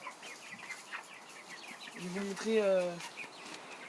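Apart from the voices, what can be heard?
Silkie chickens clucking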